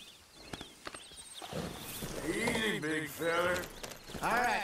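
In Red Dead Redemption 2, horse hooves clip-clop in a few sharp, separate strikes, followed by talking voices that mostly cover the hoofbeats.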